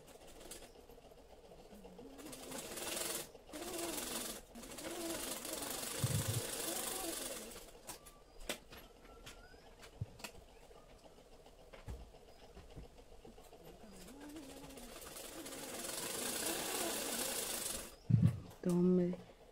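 Sewing machine stitching the back and neckline of a 38 inch katori blouse, running in bursts of rapid mechanical chatter with pauses between runs, heard close, with a person speaking at times.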